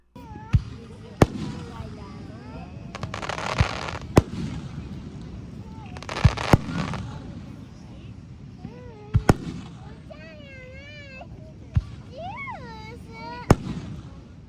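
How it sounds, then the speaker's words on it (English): A Japanese fireworks show in Kuroshio bursts as scattered sharp bangs and crackles at a distance, separated by irregular gaps, with whistling rockets rising between them and murmuring crowd talk in the background. "I caught a nice fireworks show in Kuroshio"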